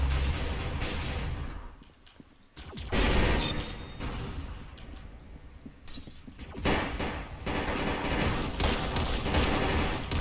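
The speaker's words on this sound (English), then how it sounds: "Gunfire in this game isn't like gunfire in Modern Warfare" Gunfire in the Roblox-style shooter game Arsenal crackles in dense, loud bursts of rapid shots, pausing briefly before resuming in sustained volleys with mechanical clicking underneath.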